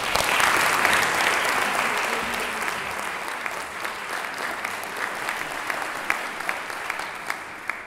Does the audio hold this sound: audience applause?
yes